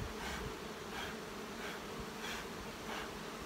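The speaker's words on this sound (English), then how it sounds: "so I'm just moving the bees off the bottom bars with my breath" Honeybees swarm and buzz over hive frames as a beekeeper gently blows them off the bottom bars, a steady, close insect drone with soft whooshing breaths pulsing through it.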